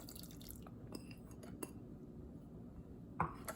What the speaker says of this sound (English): So now I will strain this water into a pot.